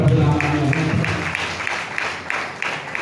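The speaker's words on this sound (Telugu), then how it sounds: "గట్టిగా చప్పట్లు కొట్టి" A church congregation claps loudly in a steady, even rhythm about twice a second after a brief voice at the start, with the clapping continuing strongly to the end.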